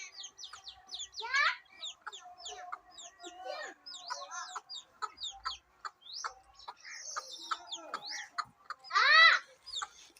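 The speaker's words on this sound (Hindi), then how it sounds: "और ये देखें मुर्गी" A hen clucking in a village yard, a series of short, varied clucks and bird calls scattered across the scene with a louder burst near the end, nearby and clear against a quiet background.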